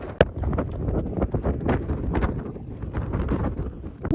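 Strong cold wind at a high lookout in Hawaii roars and buffets the microphone in heavy irregular gusts, loud and close, with brief knocks and a faint voice near the end.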